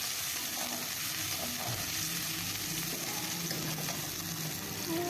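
Sliced onions frying in hot oil in a kadai, a dense continuous sizzle that stays loud and even for the whole stretch, with faint stirring underneath and no talking.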